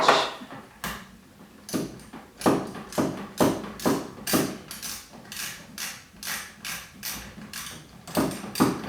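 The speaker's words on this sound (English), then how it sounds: "Go ahead and tighten it with my wrench." A wrench tightens the nuts on a battery cutoff switch in a 1985 Mazda RX-7, giving a steady run of about fifteen evenly spaced ratcheting clicks, close and fairly loud, with no talking.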